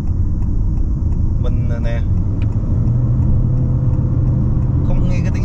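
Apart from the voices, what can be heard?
Honda HR-V 2022 engine accelerating while driving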